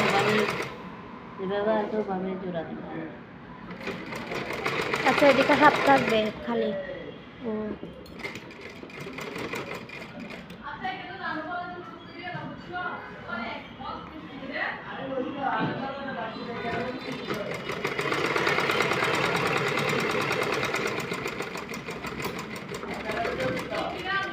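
A sewing machine runs in bursts while stitching a blouse, its steady mechanical whir rising and falling, with a person talking over much of it.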